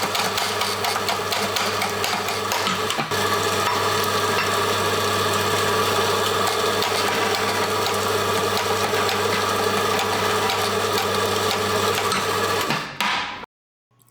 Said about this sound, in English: I'm going to just rapidly flick the grinding lever to just get as many grinds through as possible